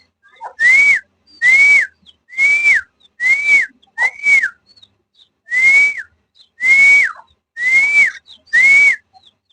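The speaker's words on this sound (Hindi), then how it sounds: "ये सीटी बजाते हैं।" A pet cockatiel whistles a repeated rising-then-falling note nine times in a steady rhythm, clear, loud and close against a quiet background.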